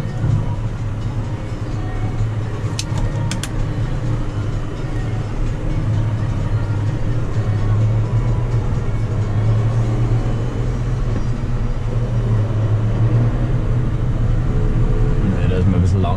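John Deere 6120M tractor pulling a Saphir meadow harrow, a steady low engine drone with rattling implement noise running loud and continuous throughout, with no clear breaks.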